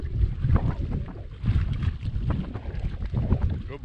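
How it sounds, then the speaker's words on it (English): Wind buffets the microphone in heavy low rumbling gusts on the French River, steady and loud throughout with no talking. "Pushed through a lot of wind, which I'm sure you can hear. It's blowing right now."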